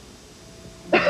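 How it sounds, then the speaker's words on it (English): A person with a cold gives a single short cough near the end after a quiet, faint background. "I have a bad cough and a cold."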